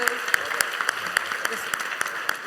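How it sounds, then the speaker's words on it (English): Audience applause at an LGBT business pitch competition, a moderate, thin patter of clapping with a few sharper claps standing out, partly under a voice. "Give them a big round of applause"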